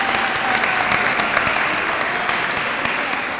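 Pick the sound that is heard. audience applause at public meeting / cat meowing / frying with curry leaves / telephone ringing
audience applause at public meeting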